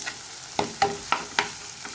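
Chopped onions frying in a pan, a steady soft sizzle with several brief louder crackles and stirring scrapes spaced through the sound.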